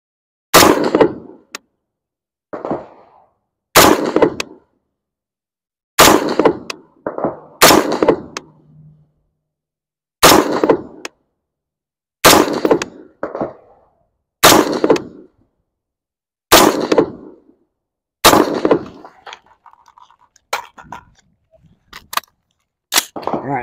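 Rifle shots fired from the prone position with the rifle supported on its magazine, about a dozen sharp, loud cracks spaced a second or two apart, each with a short echoing tail, and no talking.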